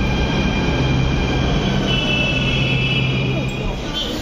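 A metro train rumbling steadily close by, a constant loud roar with a faint high whine running through it and no break.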